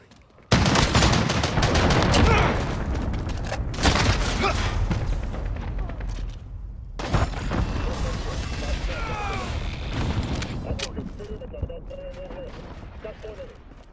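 Enemy cruise missile strike in Call of Duty Modern Warfare: a heavy, sustained barrage of booming explosions and gunfire fills the opening seconds, then a second loud wave of blasts and rumbling debris follows, fading toward the end under a warning voice.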